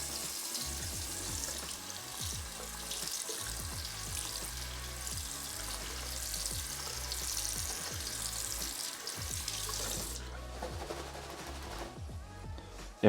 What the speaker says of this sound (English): So let's turn on the water